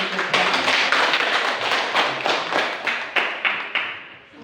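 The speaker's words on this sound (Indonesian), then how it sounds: "Oke, berikan aplaus." Classroom applause from students, a burst of clapping with rhythmic hand claps that builds and then tapers off toward the end, fairly close and without talk.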